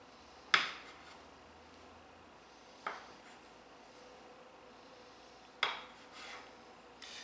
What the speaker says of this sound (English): we have to cut this into 5 equal-ish wedges.